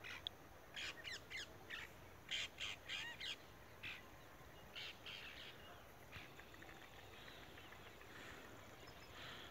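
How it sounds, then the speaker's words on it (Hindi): Evening birds returning to roost give repeated harsh crow-like caws in short bursts, moderately distant, over a steady outdoor background hiss, with no talking. "सुंदर पक्षी अपने घर पर आ रहे हैं"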